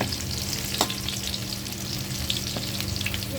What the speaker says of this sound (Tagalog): Ilagay na natin yung bawang sibuyas, kamatis, kompleto na yan